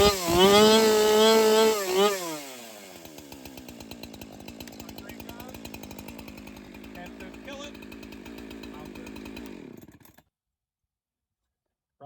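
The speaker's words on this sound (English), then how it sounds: "So, just like that, easy way to start a Husqvarna" A Husqvarna chainsaw fires up loud and close, revving high for about two seconds before dropping to a steady rattling idle, then cutting off abruptly, leaving silence.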